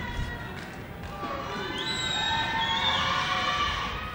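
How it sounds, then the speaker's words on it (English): Crowd noise swelling at a 1993 men's college basketball game, Buena Vista versus William Penn, in the closing seconds: a dense roar of cheering and shouts building louder, with scattered whistles above it. "Crowd getting loud."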